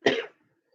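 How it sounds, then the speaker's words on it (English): A single short, close cough from a person with a bad cough and allergies, a brief harsh burst that quickly dies away into silence. "I've had this terrible cough"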